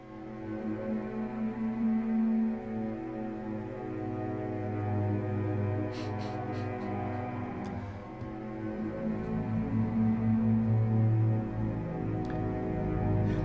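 A slow, sustained bowed cello drone playing minor second wipes, with a rising, sweeping pitch and a grainy, processed texture, steady and fairly loud throughout, with faint clicks midway.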